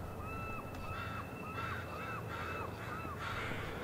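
Blondie, a leucistic crow, calls repeatedly in a series of about six harsh caws at a steady rhythm, moderately near over a constant background hiss and a thin steady tone.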